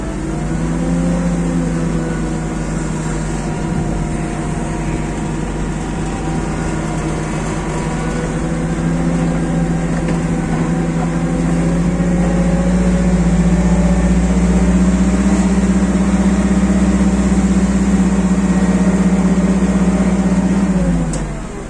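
Sumitomo FG10 one-ton petrol forklift pulling forward in first gear, a steady close engine drone with a low hum and slight rise in pitch toward the end, continuous with no speech.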